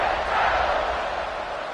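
Stadium crowd in a College Football video game match between Ole Miss and USC, a steady broad roar of cheering that holds at an even, loud level throughout, with no distinct voices standing out.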